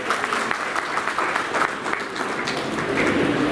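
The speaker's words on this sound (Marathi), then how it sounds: "जोरदार टाळ्या बोलतो." Audience applause greeting a guest family from Bangalore at a community gathering, a dense steady patter of many hands clapping, fairly close and loud throughout, swelling slightly near the end with no speech over it.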